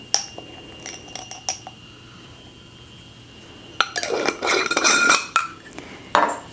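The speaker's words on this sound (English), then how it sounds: "So I just mix it together a little bit with a spoon." A metal spoon mixing freshly milled wheat flour with salt and paprika in a bowl, a few sharp clinks at first, then a pause, then a burst of rapid scraping and clattering against the bowl, close and with no speech.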